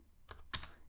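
Two quick keystrokes on a computer keyboard while typing a terminal command, a soft click followed by a sharper, louder one, close and isolated in a quiet room.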